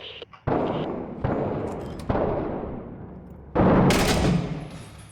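Gunfire in the urban-combat game Six Days in Fallujah: several loud, separate shots or blasts spaced about a second apart, each cracking sharply and then decaying with a long reverberant tail.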